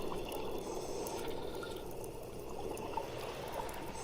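Water rushes steadily and fairly quietly, a continuous broadband wash with no pauses and no voices.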